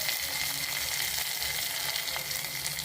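Curry leaves dropped into hot oil, giving a loud, dense, steady crackling sizzle that holds evenly throughout.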